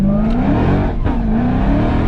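A tuned BMW F80 M3 with its catalytic converters deleted roars loud and close, its engine drone steady and rising slightly in pitch over two seconds, with no voices.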